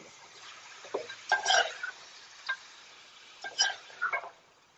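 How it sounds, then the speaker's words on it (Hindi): Mutton for karahi being fried over full flame and stirred in a pot, with faint background sizzle and several sharp scraping, clinking spoon strokes against the metal, close and without speech. "अब ये हमारा गोश्त जो है वो हम भूनेंगे अच्छी तरीके से"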